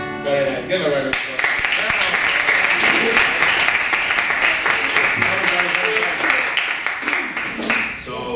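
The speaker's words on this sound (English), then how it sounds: "Give a round of applause" Audience applause after girls sing a song during a Scottish dance event, with dense, sustained clapping that starts abruptly and carries on steadily over the whole stretch, some voices faint underneath.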